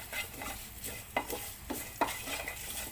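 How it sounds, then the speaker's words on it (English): A semolina mixture with hing is stirred in a pan over gentle frying, with several distinct scraping strokes of a spoon against the pan at irregular intervals. "And just give a good stir."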